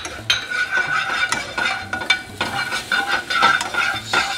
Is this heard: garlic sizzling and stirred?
yes